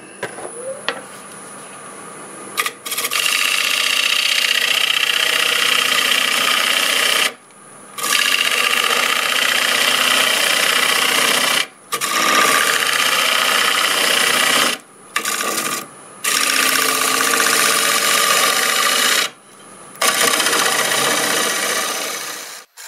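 Wood lathe turning a piece of apple wood, a loud continuous scraping and whirring cut that stops and restarts several times in bursts of a few seconds, with no talk.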